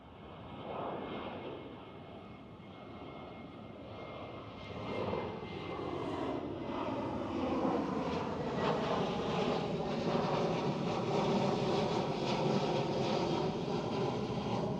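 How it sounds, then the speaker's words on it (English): A KLM Boeing 737-700 jet taking off at Amsterdam Schiphol, its engine roar building from moderate to a loud, sustained rumble with rising whine as it rotates and climbs at a distance. "Our KLM 737 rotates."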